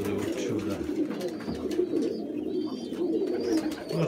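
Pigeons cooing in a loft, continuous low throaty coos from several birds close by, with soft rustling and faint chirps over a steady background.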